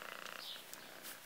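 A cat purrs softly and steadily close to the microphone, a low continuous rumble with faint background noise throughout.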